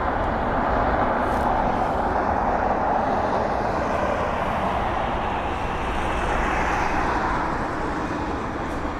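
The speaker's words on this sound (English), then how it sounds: "There it is, the A350." An Airbus A350-1000 arriving from Delhi lands on runway 27 right at London Heathrow, a steady, broad jet roar that holds loud and close through the whole stretch, with no talk over it.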